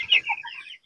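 Young roosters (stags) give short, bright clucks, a quick pair of calls close by in a quiet coop with no talking.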